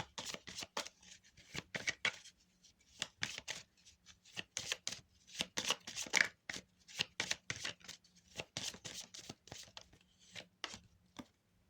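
Tarot cards shuffled for a reading: repeated close, crisp riffling and slapping bursts in an irregular rhythm, separated by short pauses, with no talking.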